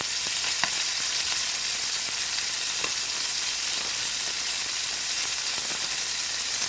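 Muscovy duck breast fries in a pan over medium heat, a steady, dense sizzle with crackling pops, close and unbroken, with no voices.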